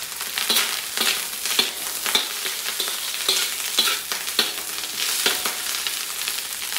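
Garlic rice being stir-fried in a pan sizzles steadily, with repeated scraping and tossing strokes from a spatula at an irregular rhythm, fairly close and moderately quiet, without any talking.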